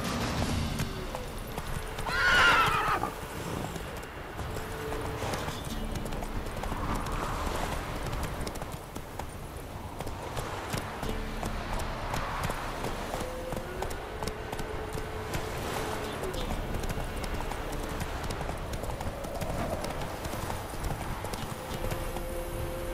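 A horse in The Witcher 3 gallops in a steady, continuous clip-clop of hooves, with a loud neigh early on and a steady game ambience underneath.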